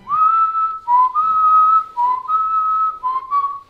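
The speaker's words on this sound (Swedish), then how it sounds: "jag blir lite glad när du visslar" A person whistles a short melodic tune, clear and close, with several sustained notes separated by brief pauses.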